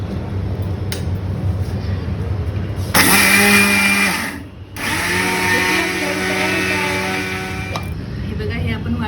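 A mixer grinder whirs through sesame seeds mixed with jaggery, starting with a sudden loud roar, pausing briefly, then running again steadily before stopping, with voices talking over the motor.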